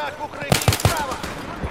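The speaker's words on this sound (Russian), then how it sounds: "я слышал какой-то жесткий пулемет" Short bursts of machine-gun fire in the video game Battlefield 3, a quick run of three or four sharp, fairly close shots followed by a few softer, more distant reports.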